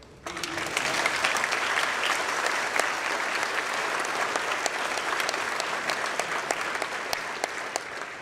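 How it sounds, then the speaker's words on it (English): Audience applause following a speech, a sustained burst of many hands clapping together at moderate loudness, steady for several seconds before tapering slightly. "if all of you would just join in applause for that work"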